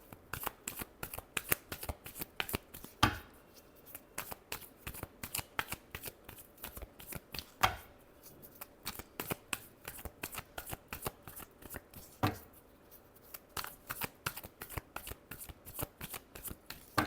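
Tarot cards being shuffled close by, a long run of quick crisp riffles and flicks with brief pauses and a few louder slaps, no voice over them.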